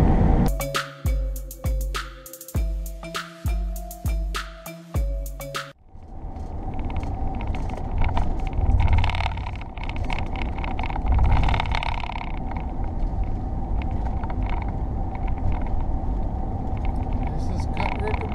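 An RV cruising at 70 mph on a Michigan highway near the Cut River Bridge gives a steady, loud road rumble and wind roar that runs without a break for most of the stretch, after a few seconds of pulsing music at the start.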